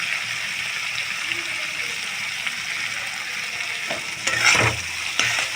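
Spice masala for a chickpea and potato curry sizzles in a pan while being stirred, a steady frying hiss with a few louder scraping stirs near the end, close by and without speech.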